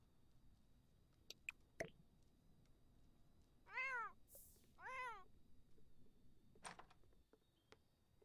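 A cat meows twice in The Sims 4, two clear rising-and-falling game cries a second apart, with a few faint clicks and drips around them in an otherwise quiet scene.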